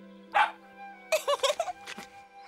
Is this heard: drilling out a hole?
no